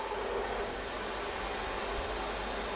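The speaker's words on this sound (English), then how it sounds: "one of the things we do is to keep them warm with a nice blow dryer" A blow dryer runs as a steady, even airflow roar throughout, keeping an anesthetized dog warm at a street dog rescue and sterilization clinic in Chiang Mai, Thailand.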